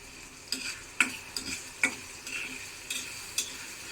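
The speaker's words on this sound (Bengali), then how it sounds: "একটু নেড়ে দেই।" A utensil stirs chopped onions frying in hot oil over full flame for bitter gourd fry, a soft sizzle broken by about eight sharp scraping strokes against the pan, close and alone.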